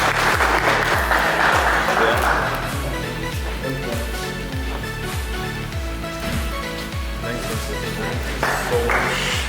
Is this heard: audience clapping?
yes